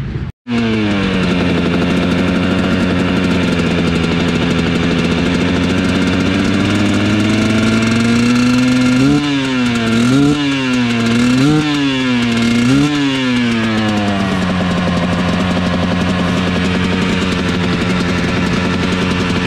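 A motorcycle engine fires up and settles into a steady, loud idle, with a few quick rising-and-falling blips of the throttle partway through as it warms up.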